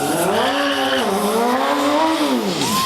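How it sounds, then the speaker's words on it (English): A BMW S1000RR sport motorcycle sliding at a stunt show, its engine wailing loudly in rising and falling revs, with a brief dip and a high tire squeal at the end. "having some fun sliding this S1000 double R all over the place"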